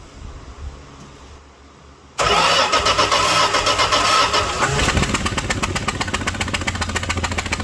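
A 1974 Dodge Dart Sport that sat for 22 years cranks and suddenly fires up with a loud roar, then settles into a rough, loud, pulsing idle that runs on steadily, with no talking.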